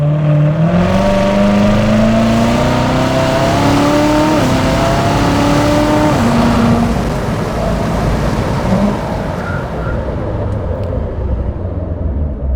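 A 650-horsepower 2019 Chevrolet Corvette Z06 engine revs hard in sport mode and climbs through the gears, loud and close, with rising pitch and a brief shift before pulling again.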